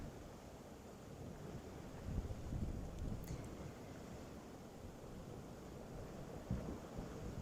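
Steady wind and rolling ocean surf on the coast of Thailand fill the scene with a continuous low roar, with a few louder gusts or wave surges rising briefly.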